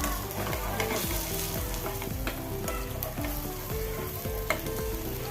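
Pearl spot fish (avoli) frying in hot oil, a loud, dense, steady crackling sizzle heard up close throughout, with no talking.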